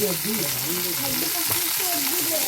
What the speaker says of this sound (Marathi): जेवढं तुम्ही व्यवस्थित तेल टाकाल तेवढं चांगलं ते फ्राय होणार